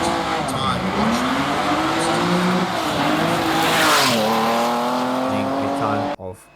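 A 1974 Porsche 911 RSR race car at a hillclimb roars past loud and close, the engine note climbing and dropping through gear changes with faint tire squeal, before cutting off abruptly at the end.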